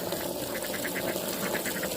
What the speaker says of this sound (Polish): Kurczaki i kaczuchy.